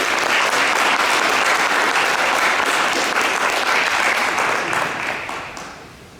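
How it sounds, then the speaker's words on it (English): A board of education meeting audience applauds an honoree, a dense burst of many hands clapping that holds steady for several seconds, then tapers off toward the end. "Please join me tonight in congratulating Emerson Spence with a round of applause."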